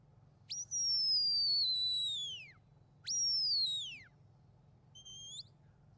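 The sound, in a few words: shepherd's stop whistle to sheepdog at sheepdog trial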